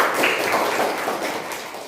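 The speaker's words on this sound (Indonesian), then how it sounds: "beri tepuk tangan untuk kelompok 2" Audience applause for a student group after its classroom presentation, a steady dense wash of clapping with no pauses.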